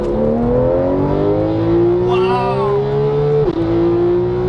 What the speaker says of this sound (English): The acceleration on this car, as you're about to see, like it just pushes you back right into the seat